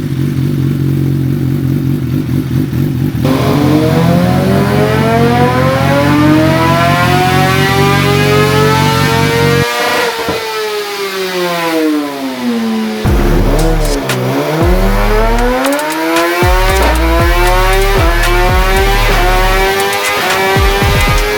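A 2024 Suzuki GSX-R1000 sport bike on a dyno revs loudly and close, its engine note sweeping up and down through repeated climbs, a brief drop near ten seconds, then more sharp revs.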